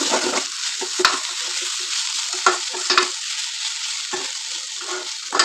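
Amaranth stem greens are stirred in a hot pan, with a steady close sizzle and scraping spoon strokes recurring every second or so, no voices.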